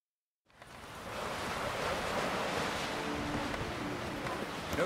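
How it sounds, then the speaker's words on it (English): Gusting crosswind over open sea in The Witcher 3, a broad steady rush of wind and surf that swells up after a brief silence and holds loud and continuous throughout. "this is a terrible crosswind"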